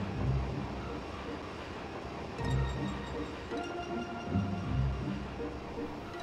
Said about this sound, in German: Zug fahren!